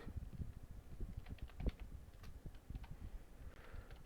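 A computer keyboard set to an English layout clacks in fast, irregular typing, the keystrokes close and steady over faint room noise.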